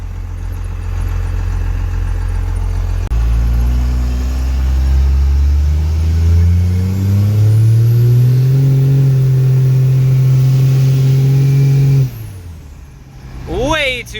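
A Dodge Dakota with a 12-valve diesel swap, S300 turbo and 48RE transmission revs loudly and close, its engine note climbing steadily and holding before cutting off sharply near the end, with a brief rattle after.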